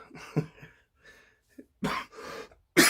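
A few harsh coughs, close and fairly loud, with a soft throat sound before the strongest bursts and short pauses between them.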